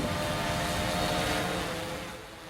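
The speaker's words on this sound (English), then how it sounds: "this is the drone coming safely back and doing a auto land from an autopilot return" A fishing drone returns on autopilot for an automatic landing, its steady motor and propeller drone humming faintly and evenly before fading slightly toward the end.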